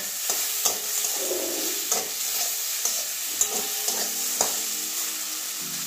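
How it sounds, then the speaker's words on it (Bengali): Brinjal frying in a covered pan on medium heat for an aloo begun chorchori with bori, heard as a continuous close sizzle marked by regular spatula knocks and scrapes against the pan. "এখন বেগুনটাও ভাজা হয়ে গেছে, নরম হয়ে গেছে।"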